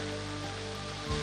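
Light rain falls steadily over a Punjab city, a soft, even hiss of drops on surfaces that holds for the whole moment, with a faint low thump near the end.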